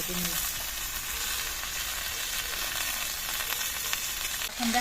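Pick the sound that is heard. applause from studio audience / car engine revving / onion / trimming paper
onion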